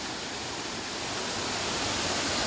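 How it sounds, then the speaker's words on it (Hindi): A small waterfall in a mountain village in Uttarakhand pours with a steady, close, unbroken rush of water and no voices. "तो इधर एक छोटा सा झरना है"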